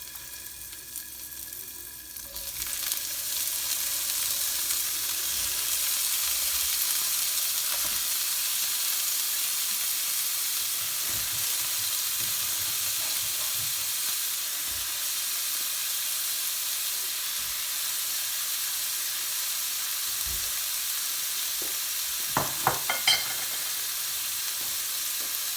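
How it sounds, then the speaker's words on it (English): Bitter gourd dropped into heated olive oil for a lamb casserole sets off a loud, continuous sizzle and hiss that holds steady for a long stretch, with a few stirring knocks near the end. "We're just going to fry this off and cook it."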